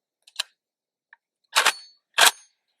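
A rifle firing 7.62 ammunition fitted with NILE silicon carbide rail panels, heard as a few sharp, loud shots spaced apart outdoors, with two strong blasts and some fainter pops, and no talking.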